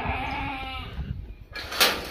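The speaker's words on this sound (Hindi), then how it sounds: "ये जी बकरी है सामने" Goats bleat on a Beetal goat farm, a wavering bleat in the first second followed by a brighter, louder call near the end, close by with no talk.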